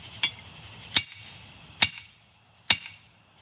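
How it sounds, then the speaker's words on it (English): Four sharp strikes from a big hammer ring out on metal on an anvil at a forge, evenly spaced with a bright clang and brief ring after each blow. "Or I use a big beefy hammer."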